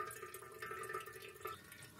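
Fuel draining out of the fuel line of an old Wheel Horse tractor, a faint, steady trickle with light drips heard alone at close range.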